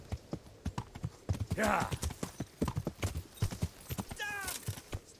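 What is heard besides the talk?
horse hooves clip-clopping, from a video game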